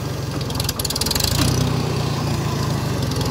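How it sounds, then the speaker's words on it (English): A Farmall 350 tractor engine chugs loudly nearby, its throttle rising to a higher, busier rumble partway through and holding there, before bush hogging with a Woods 208 cutter. "We'll get the tractor a little bit of throttle here."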